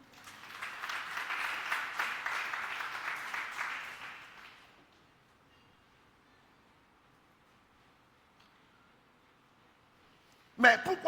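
Church congregation applauding to acclaim the Lord during a sermon: a few seconds of steady, moderately loud crowd clapping that fades out, followed by near silence and then a brief loud burst.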